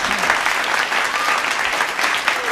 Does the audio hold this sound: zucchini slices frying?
no